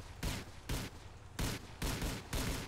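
Gunfire in GTA IV multiplayer: five heavy, evenly spaced bursts, loud and close, with no talking.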